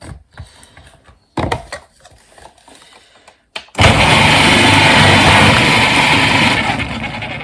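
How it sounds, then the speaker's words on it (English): A food processor whirs up loud and steady after a few short clatters and bumps, its dense motor and blade noise filling the rest of the clip as coleslaw vegetables are shredded. "the food processor I just find makes the whole job an awful lot easier and quicker"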